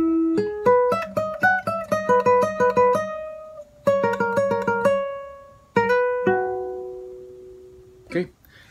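A clean guitar plays a phrase, bright plucked single notes in quick runs with three pauses, the last note left ringing and fading, followed by a faint brief noise at the end.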